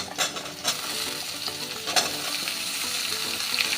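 Papaya chunks fry in a hot pan with steady sizzling and occasional stirring scrapes, a continuous close crackle with brief louder spikes, and no voices.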